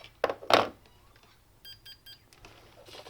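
A multimeter set to continuity gives three or four short, faint, high beeps in quick succession, tested on a device's power connector. Louder scraping clicks from the probes come just before.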